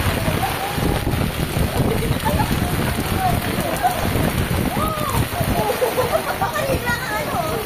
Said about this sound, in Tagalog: Oh, heavy rain, no?